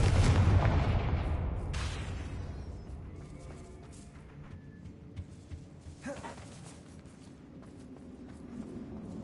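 Confringo blasting spells explode in Hogwarts Legacy: a heavy, booming blast opens the clip, with further sharp bursts near two and six seconds over a steady rumbling game backdrop.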